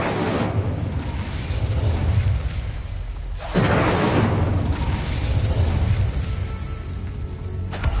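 The Incendio fire spell erupts in Hogwarts Legacy, a loud, close roaring burst that surges twice in sustained whooshing blasts of flame.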